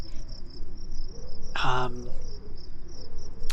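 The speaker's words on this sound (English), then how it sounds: "You can hear the crickets in the distance, the wind whipping through the buildings." Crickets chirp far off on a quiet night among wind-swept buildings, a steady high trill running unbroken throughout, briefly joined midway by a louder, short tonal call.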